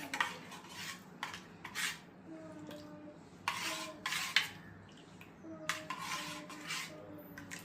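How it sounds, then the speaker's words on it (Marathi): A spoon scrapes and clinks against a vessel while a jaggery drink is stirred: irregular metallic strokes and taps up close, alone without talk. "लिंबू सरबत मिक्स केल्यासारखं मिक्स करायचं भांड्यांमध्ये"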